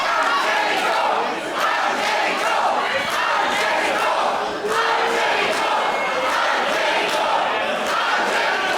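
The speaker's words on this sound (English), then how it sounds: "The crowd making it clear whose side they're on." A wrestling crowd roars and chants rhythmically through a GWF Berlin title match between Angelico and Justin Wylde, a loud, continuous swell of voices with pulsing surges.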